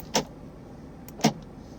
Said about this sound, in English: electronic central locking.